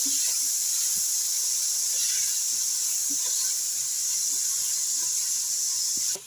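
Onions and shallots sizzling in hot coconut oil for a homestyle chicken curry, a loud steady hiss that holds evenly, with a few faint ticks and pops, then drops off at the very end.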